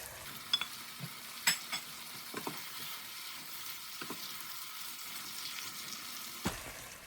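Chicken with potatoes, coconut milk and freshly added green peppers sizzles steadily in a pan, with a few sharp clinks and knocks from stirring rising above the continuous frying hiss.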